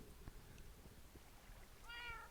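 A video-game cat gives one clear meow near the end, faint against a low background murmur and soft clicks, with no one talking.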